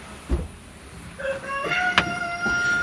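A rooster crows with a rising then sustained call, fairly close, after a brief low thump; no talking.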